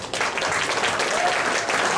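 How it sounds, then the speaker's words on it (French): Audience at a charity golf tournament event in Farnham clapping, a dense even round of applause lasting a couple of seconds, moderately loud with no voice over it. "je vous demanderai des applaudir"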